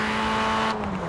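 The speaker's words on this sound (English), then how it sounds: "I prefer listening to the sound of my car, which does sound absolutely amazing" A car engine in the Forza Horizon racing video game hums steadily at close range, a sustained droning tone that continues alone without talk before easing slightly near the end.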